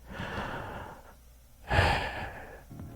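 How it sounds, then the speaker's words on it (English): A single deep breath, a long drawn inhale followed by a brief pause and a stronger, breathy exhale, close and alone with no talk. "Just take a deep breath, literally."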